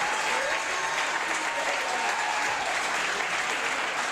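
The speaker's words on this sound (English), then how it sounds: "let's hear a big round of applause for our beautiful girls" A crowd gives loud, continuous applause for the contestants at a Miss Polonia USA beauty pageant. The clapping holds at an even level the whole time, with a faint murmur of voices mixed into it.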